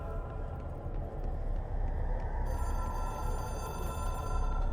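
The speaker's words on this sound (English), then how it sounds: "We can answer the phone." A telephone rings in the video game Control, a steady electronic ringing tone that starts partway through over a dense low rumbling hum of background ambience, with no talk.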